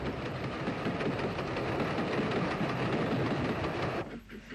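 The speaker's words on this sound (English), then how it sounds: "Another one of these ubiquitous tank engines leans on the curve through Finaghy with a down train from Dublin." A steam tank engine hauls a down train from Dublin round the curve through Finaghy in 1964, a loud continuous rumble of rolling wagons and engine that drops away near the end.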